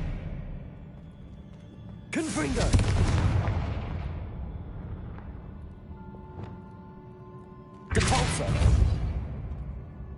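Two bursts of a spell being cast in the Hogwarts Legacy video game, each a sudden loud blast with a whooshing, crackling tail, the first around two seconds in and the second near eight seconds, over a low ambient game rumble.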